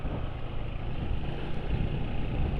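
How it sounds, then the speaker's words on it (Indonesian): A motorcycle engine running rough on old Mesran SAE 40 oil gives a close, steady, gravelly rumble with an uneven, throbbing texture and no break. "suara mesin sudah mulai kasar ya."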